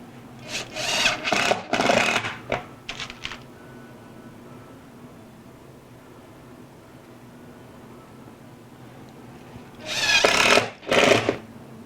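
Screws driven into a wooden workpiece on an ES 335 guitar build in a shop, two bursts of buzzing drill whir early and two more later, close and moderately loud, with quiet gaps between.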